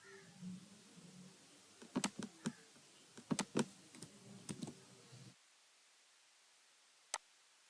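Keys clack on a computer keyboard in a quick irregular burst of close taps for about five seconds, then a pause and one final isolated keystroke, with no talking.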